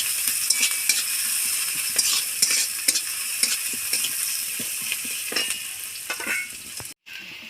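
Onions sizzle in oil with fried peanuts, a constant close crackling hiss with repeated spoon scrapes and clinks as the pan is stirred, cut off briefly near the end.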